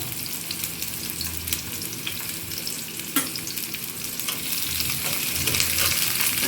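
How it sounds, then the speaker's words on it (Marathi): Sliced onion frying in hot oil in a pan for a spicy Maharashtrian prawn masala, a continuous dense sizzle with one sharp utensil tap, close up and growing a little louder toward the end, no talking. "आता तेल ओतलं आहे पॅनमध्ये आता कांदा टाकला"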